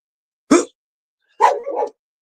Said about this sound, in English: the little dog would be barking his arses off